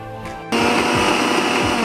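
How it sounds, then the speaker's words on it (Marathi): A kitchen mixer grinder whirs into action after a brief quiet start, grinding green chilli, garlic and coriander with a loud, steady high-pitched motor whine and rattling blades. "हे मी मिक्सरमध्ये बारीक करून घेत आहे"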